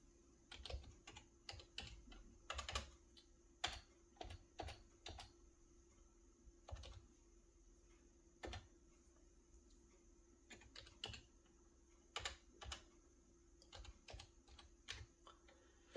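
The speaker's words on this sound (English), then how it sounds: "So I'm going to type a little bit" Keys clatter on a computer keyboard in short bursts and clusters, quiet and close, with pauses between runs of typing code for microchip programming.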